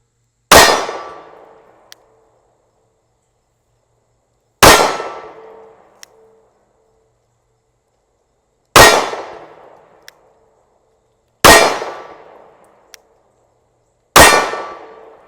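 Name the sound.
SIG P365 pistol shots fired at a target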